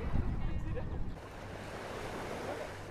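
Gentle sea waves wash in a calm, sheltered bay at Naama Bay, Sharm El Sheikh, a soft broad surf wash with some wind rumble on the microphone, heavier in the first second and then settling to a steady hush.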